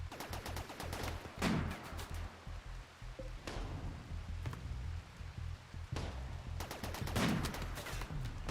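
Gunfire in the video game RimWorld, rapid bursts of small, faint shots in clusters with gaps between, over a low steady background hum.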